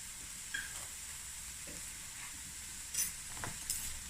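Freshly chopped garlic added to a pot for a Cape Malay bean stew sizzles with a faint steady frying hiss, with light stirring clinks and scrapes scattered over it.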